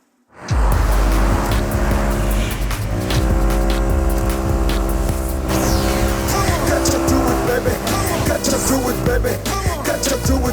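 A car roars in and drives hard with tires squealing, a loud, continuous screech and engine drone that starts abruptly and holds for about ten seconds, in a Hindi film scene.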